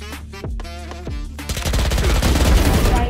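Gunfire from the tactical shooter Valorant, sharp single shots early on, then a loud, dense burst of rapid fire in the last half.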